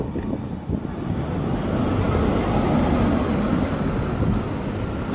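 A London tram passes very close, its steady rumbling roll and rail noise sustained throughout, with a thin high wheel squeal running over the top; no voices.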